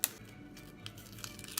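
The papery outer skin of an onion is peeled off in a short, quiet tearing and crinkling, with a few soft crackles close by.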